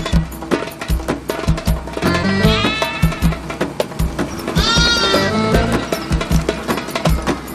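Free-grazing goats belonging to a Berber herder bleat in long, wavering cries on a mountain slope at Oukaïmeden in Morocco's Atlas. Two clear calls rise over a steady low background rumble.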